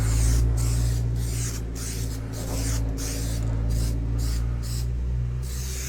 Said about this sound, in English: So I'll spray it on again, except this time I'll spray it this way.